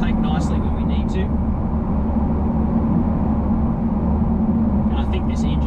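An Audi A6 3.0 V6 engine hums steadily from inside the cabin while driving, a constant low drone with a voice speaking briefly over it at the start and end.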